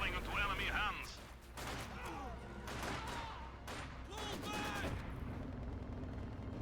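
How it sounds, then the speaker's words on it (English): Company of Heroes 2 battle with a grenade assault: repeated bursts of gunfire and explosive blasts crackle and thump throughout, dense and loud, with a commentator's voice running over the combat. "Grenade Assault does come on in."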